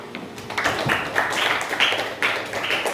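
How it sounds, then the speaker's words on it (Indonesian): Scattered applause from a small class audience during an Islamic lesson about sacrificial animals, a quick patter of hand claps that rises and keeps going for a few seconds at moderate loudness, with no talking. "Oke, beri tepuk tangan."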